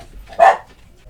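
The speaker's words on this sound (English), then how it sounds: "I had to get the dogs to stop barking." A single short dog bark or yip at a home with several dogs, heard alone and moderately close, with a quiet room before and after.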